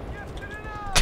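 A single sharp gunshot cracks in Battlefield: Bad Company 2 at the end of a short moment of game ambience, loud and close.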